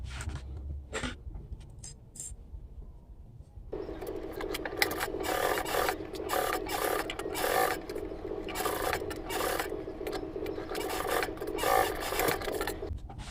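A sewing machine stitches a seam on a fabric cube organizer with six compartments. It starts with a few short taps, then runs as a steady, close mechanical whir with a rapid needle clatter for about ten seconds.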